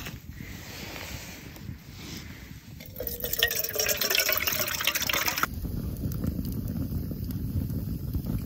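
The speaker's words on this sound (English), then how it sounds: "I'm gonna pour the rest of the wine in here" Leftover wine poured into a pot at a wilderness canoe campsite, a steady liquid stream that swells louder midway then settles, close and alone.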